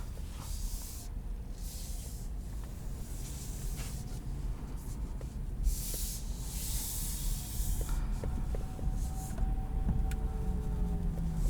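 A 2020 Chevrolet Bolt LT electric car on the move, heard from inside as a quiet, steady road and tire hiss with soft whooshes of passing air and faint clicks, no voices.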